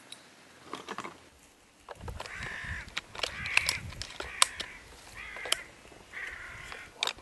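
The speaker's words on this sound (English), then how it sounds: "There's a good build up of crows in a couple of minutes." Crows cawing as they fly in during an Irish crow shoot, several harsh caws at varying distances repeating over a soft outdoor background, with no voices.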